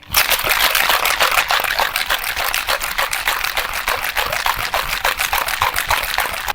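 Rapid, continuous rattling and sloshing from a cocktail shaker vigorously shaken with ice and thick syrups for a chocolate-bar cocktail, loud and close, with no pause.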